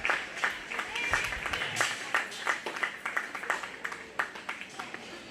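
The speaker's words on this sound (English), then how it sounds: "Let's give them a round of applause." Audience at a 4-H and FFA county fair swine show claps for exhibitors, a moderate patter of individual hand claps that thins out toward the end, with a voice speaking over it.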